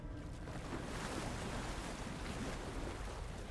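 Water sloshing and broad wave wash in the video game Alan Wake 2, a steady dense rush of surf-like noise with no speech, continuous throughout.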